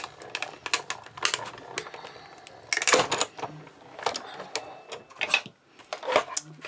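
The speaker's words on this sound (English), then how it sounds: "And I'm just going to crank it through." A hand-cranked die cutting machine for card making rolls a cutting plate through with a rapid, uneven run of close clicks and clacks, pausing briefly and resuming in bursts.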